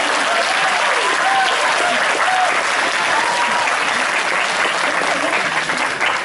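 Steady applause from an audience at a college HR challenge presentation fills the room, many hands clapping loudly and continuously with faint voices mixed in.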